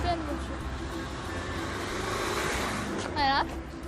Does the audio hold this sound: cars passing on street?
yes